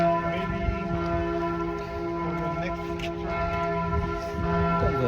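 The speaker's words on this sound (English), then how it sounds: "The bells of Notre Dame." The large bells of Notre Dame in Paris ring steadily with long, overlapping resonant tones, loud and sustained, with faint voices in the background.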